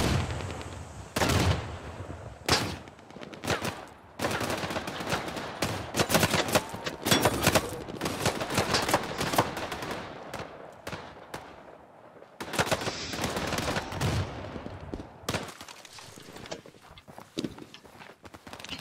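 Friendly soldiers' gunfire in the WWII-style video game Day of Wars, dense bursts of rifle and machine-gun shots, loud and close, with brief pauses and scattered footsteps.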